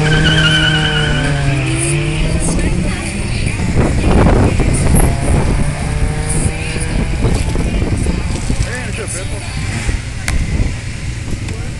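Drag racing cars, one a BMW in the left lane, launch and roar down the strip with rising engine howls and tire squeal, loud and close, under crowd noise and a voice on a public address.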